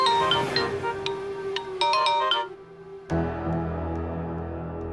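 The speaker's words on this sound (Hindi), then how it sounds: "बैंक मैनेजर का फोन है।" A phone ringtone plays a bright electronic melody of short repeated tones, then shifts to a fuller, steady ringing pattern, clear and alone at moderate volume.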